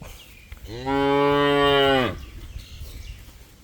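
A Thai beef cow lets out one loud, close moo of a bit over a second, rising steadily and then cutting off, with quiet farmyard background before and after.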